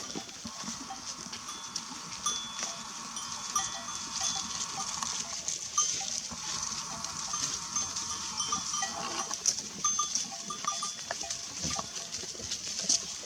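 A steady outdoor rustle with faint bells and animal movement as a flock of sheep shuffles past heading downhill in the Turkish mountains, with no talking.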